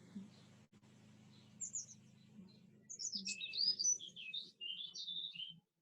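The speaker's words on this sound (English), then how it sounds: "I hear the birds." Birds chirp and trill outside in quick, bright bursts, faint at first and then busier and closer, over a low steady hum with no talking.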